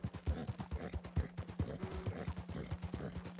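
Rapid, rhythmic hoofbeats of a galloping horse in the video game Red Dead Redemption 2 thud steadily throughout, close and fairly loud, with a low droning hum running underneath.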